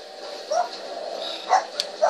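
Several dogs in a home bark and yip in short bursts, three or four sharp yaps spaced across a couple of seconds, moderately close behind a faint background hum.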